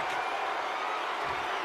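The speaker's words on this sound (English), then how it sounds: "the cheers of the crowd couldn't save Rikishi from harm there" A WWE 2K25 video game arena crowd roars and claps in a dense, steady wash of cheering, loud and continuous over the short stretch.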